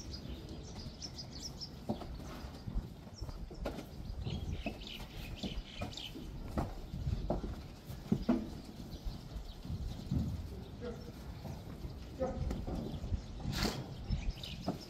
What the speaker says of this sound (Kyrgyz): Чоң бээлер келди.